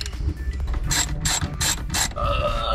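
A ratchet fitted with a 10mm socket backs out shifter assembly bolts in an Evo 10, giving close, sharp bursts of rapid pawl clicking in several short runs.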